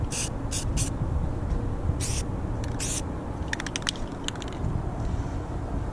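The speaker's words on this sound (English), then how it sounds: "keep the stock cap on, do a little test spray." Several short hissing bursts of a Rust-Oleum aerosol spray paint can with its stock cap, two quick puffs then longer test sprays, against a steady rumbling background, followed by light clicking.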